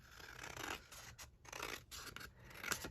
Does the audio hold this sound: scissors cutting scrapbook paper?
yes